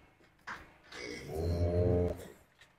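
An Australian breed calf and cows on a dairy farm, with one long, loud, close moo rising and falling, preceded by a short low bovine call and quieter farm background.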